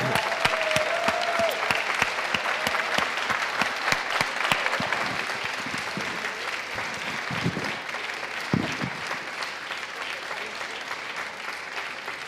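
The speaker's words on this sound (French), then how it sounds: "Un tonnerre d'applaudissements" Sustained audience applause at an award ceremony honouring Jean-Marie Leloup, a dense, even wash of clapping with a few sharper close claps and bumps, steady throughout without a voice over it.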